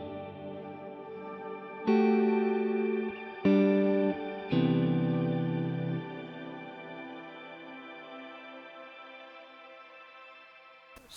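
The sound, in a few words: shimmer reverb spillover on Fractal VP4 virtual pedalboard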